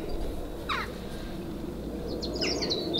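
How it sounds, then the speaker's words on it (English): Crows from a rookery up the hill caw outdoors in the distance, a short burst early on and a longer cluster near the end, over steady low background noise. "Can you hear all the birds in the background?"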